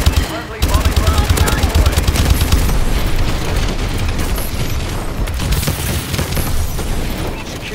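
Call of Duty Advanced Warfare multiplayer match with rapid, loud automatic gunfire and booming explosions from a bombing run, dense and continuous bursts filling the whole stretch.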